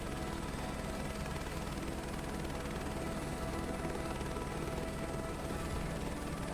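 A helicopter flies low in Microsoft Flight Simulator 2024, giving a constant dense rotor and turbine drone at even loudness throughout, with no talking.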